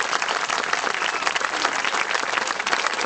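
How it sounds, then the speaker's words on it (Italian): An audience in Roccalumera, Messina applauds folk dance groups from Bulgaria, Poland and Ukraine, a loud, dense, continuous wash of crowd clapping close by, heard on its own. "Un applauso per favore,"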